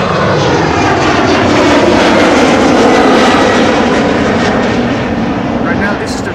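Aircraft roar loudly and continuously near Amsterdam Schiphol's Polderbaan runway, 36L/18R, on a morning of traffic. The engine noise is broad and sustained, with a voice partly audible under it.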